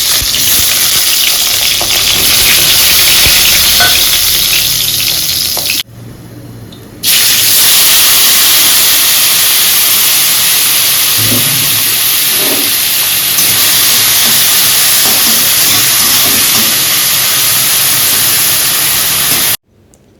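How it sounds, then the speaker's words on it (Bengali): Bitter gourd and potatoes fry in a pan with a loud, constant hissing sizzle that drops out briefly for a moment before resuming, with no talking. "বরঞ্চ করলা আলু ভাজা করি"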